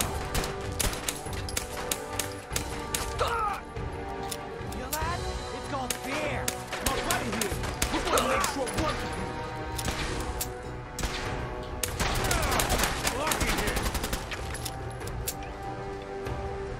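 Scattered gunshots in a heavily modded Fallout 4 playthrough, sharp reports of varying loudness mixed with game music and ambience, with voices throughout.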